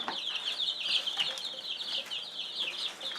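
Several chickens cluck and chatter steadily at close range on a foggy morning around feeding time, with a continuous busy stream of calls and no voices.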